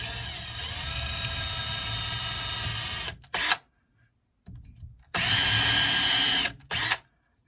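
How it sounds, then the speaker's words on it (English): A power drill bores a hole straight through a piece of wood for a turning gouge handle, with two loud sustained whirring runs broken by short stops and silence, close to the listener. "show you how to drill a hole straight through that piece of wood right there"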